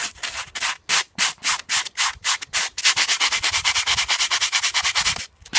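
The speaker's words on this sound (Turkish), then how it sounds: "Bir 80'lik bir de 120'lik zımparam var" A boat hull is hand-sanded with 80 and 120 grit sandpaper on a sponge, giving close, loud, rhythmic rasping strokes that start slow and uneven, then settle into a fast, steady back-and-forth.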